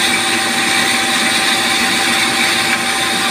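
A long-used electric water pump motor runs with a steady, loud whir and a constant tonal hum, broadband and unbroken throughout, with no talk. The motor's running has stopped sounding normal.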